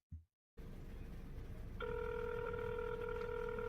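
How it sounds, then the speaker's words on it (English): Outgoing phone call ringing through a handset, a short click and pause followed by a faint hum, then a steady electronic ring tone starting partway and holding to the end. "We're going to try and see if we can get Tara on the phone"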